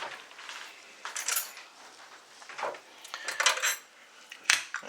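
A metal spoon scoops chutney from a dish, giving several close, bright clinks and scrapes against the dish in irregular bursts, with no talk.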